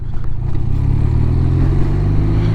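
A BMW R12nineT motorcycle is ridden on a country road. Its engine gives a loud, close, steady low rumble that carries through the whole stretch.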